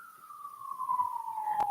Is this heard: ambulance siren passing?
yes